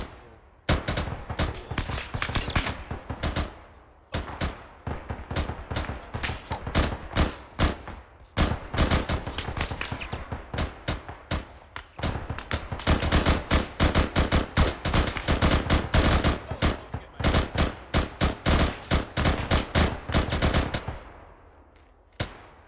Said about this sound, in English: I got the machine gunner suppressing us.